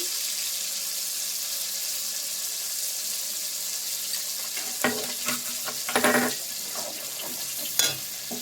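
Ingredients fry in hot oil with a steady, even sizzle close by, and brief crackles and spits burst up toward the end.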